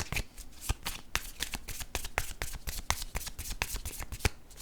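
Tarot cards shuffled in the hands, a steady run of crisp, close riffling and flicking card snaps that repeat rhythmically for several seconds.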